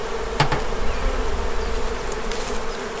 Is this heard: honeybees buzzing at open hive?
yes